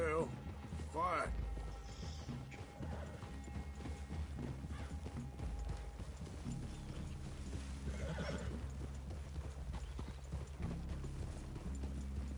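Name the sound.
horses' hooves walking, from video game Red Dead Redemption 2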